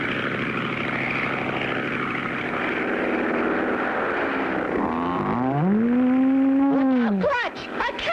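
In a cartoon, a propeller airplane drones steadily overhead, then its engine pitch swoops down and climbs back up as it dives and pulls up, with a voice briefly heard over the engine near the end.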